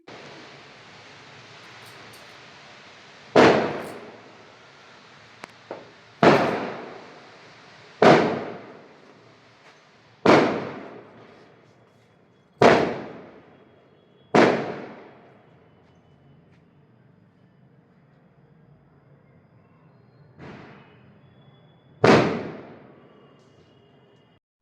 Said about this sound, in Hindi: तो गाइज आपने देखा कैसे अच्छी आतिशबाजी हो रही है।